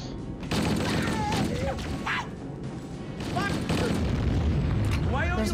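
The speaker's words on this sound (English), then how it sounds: "Hey, grenades! Grenades! Grenade!" Grenade explosions in the video game Halo: Combat Evolved, several heavy booms rolling together in a loud, dense battle mix, with a voice speaking over the blasts.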